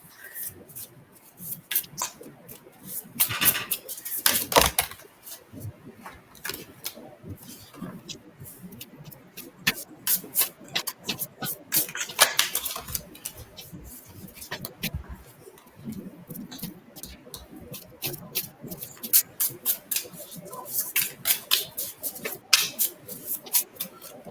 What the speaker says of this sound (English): That's why she's sitting here talking and I'm shuffling and it just sounds so loud.